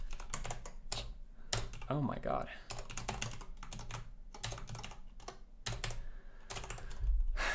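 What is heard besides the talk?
fast typing on a computer keyboard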